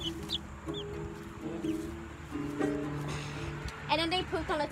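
Baby chicks and chickens clucking and peeping indoors, with intermittent calls over a few seconds beneath people talking.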